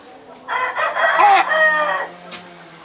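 A single loud crow from a six-month-old young rooster rings out close by, drawn out over about a second and a half, then trails off into near quiet.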